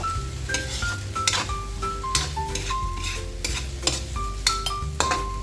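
Cooked leftover rice stir-fried for chicken fried rice, a spatula scraping and clanking against the pan in a steady rhythm over a constant close sizzle, with no talking.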